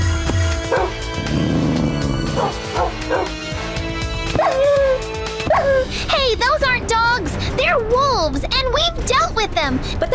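Cartoon dogs yipping, whimpering and barking in an animated scene, a string of bright rising yelps that grow busier toward the end, mixed with character voices and music.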